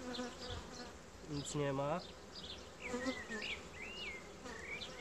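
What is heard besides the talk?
Buckfast honeybees buzzing in a hive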